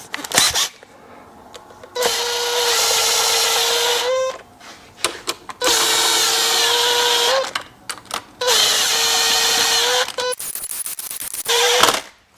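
A power driver runs down Loctite-coated bolts on a Seadoo 951 engine being built, three loud, steady whirring bursts of about two seconds each, separated by short clicks and handling noises.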